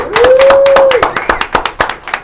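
Audience applause for the band at an El Monte lodge show: a whistle at the start, then a short run of sparse, uneven hand claps that fade out.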